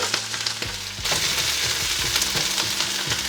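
Onion and green chilies sizzle and crackle steadily in oil in a pan, with a few soft stirring scrapes; the frying grows louder after a brief quieter start.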